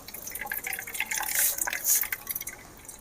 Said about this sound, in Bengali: এভাবে হাতে করে চাপ দিয়ে দিয়ে জলটা ঠিক বের করিয়ে নেব।